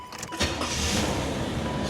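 A 1987 Chevrolet Caprice with a 305 V8 cranks briefly and catches, then settles into a steady, close idle rumble.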